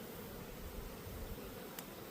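Honeybees drone steadily around an open hive during a beekeeping session, a low, dense buzz that holds at a fairly quiet level throughout without any talk.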